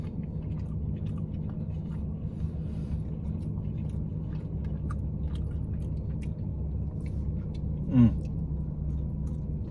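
Someone chews a mouthful of Little Caesars pepperoni stuffed crust pizza up close, producing soft, continuous, wet chewing over a low background hum, with one brief louder bite.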